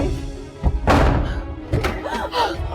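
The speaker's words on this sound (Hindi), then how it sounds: "तोड़ दो दरवाजा।" A door is forced and broken down in a domestic drama scene: several heavy, hollow thuds and a sharp slam land in quick succession, loud and close, with tense voices faintly in the background.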